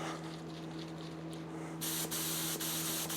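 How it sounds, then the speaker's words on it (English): High build primer spray can blasting a short burst to clear a clogged nozzle, a loud close hiss starting abruptly after a low steady hum, with brief sputtering breaks near the end. "Spray it out, so that's just gonna get all the crap out."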